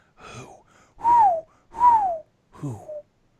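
A person tries to whistle, making four breathy, airy whistle attempts in a row, each a short wavering tone with a falling pitch, the middle two clearer and louder, heard close and alone.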